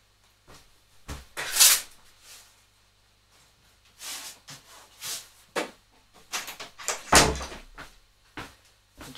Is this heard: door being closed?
yes